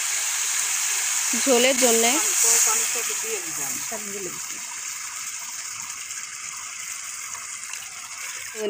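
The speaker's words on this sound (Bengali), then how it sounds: "এর মধ্যে এখন পানি অ্যাড করতেছে আম্মু" Water is poured into a pan of simmering koi and rui fish curry, producing a steady hiss that lasts throughout, while someone talks briefly near the start.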